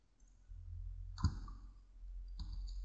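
Two crisp computer mouse clicks, about a second apart, sound close and quiet over faint room hum while lines are selected in pattern-digitizing software.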